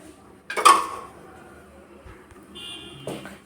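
A pan being handled on the stove while two spoons of oil go in: one sharp metallic clank, then a quieter clatter about two and a half seconds later, with no talk.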